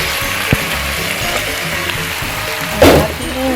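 Cooked rice tipped into a hot pan for Filipino-style fried rice, hitting with a sharp sizzle burst and settling into steady frying crackle, with a few utensil knocks against the pan.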